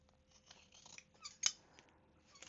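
Quiet snipping of scissors through fabric, a few soft cuts with one sharper metallic snip in the middle, otherwise a calm room.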